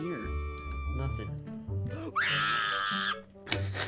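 A scream from a character in the video game Garry's Mod during a hide-and-seek match, a sustained high shrill cry lasting about a second amid game sounds and voices talking.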